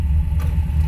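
A Holley Sniper EFI–equipped old muscle truck's engine rumbles low and steady through its shutoff, a close, loud mechanical drone with no talk over it.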